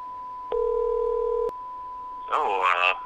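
A single steady electronic phone tone, about one second long, plays during a Breath of the Wild gameplay session, followed by a short burst of voice.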